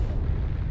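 Deep rumbling explosion from an artillery strike in MechWarrior Online, a short, dense, low-pitched roar.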